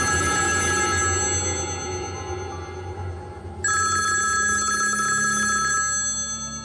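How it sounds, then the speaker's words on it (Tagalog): A telephone bell rings loudly in two long bursts with a brief pause between them, over a steady background hum on a live variety show. "Yung telepono mo."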